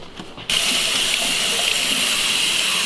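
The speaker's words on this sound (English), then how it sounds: "She just rinsed it out with some hot water." Hot water gushes steadily from a tap over a Yamaha YZ250 or TTR125L motorcycle part being rinsed clean, starting abruptly after a brief quiet moment and then running loud and constant with no talking.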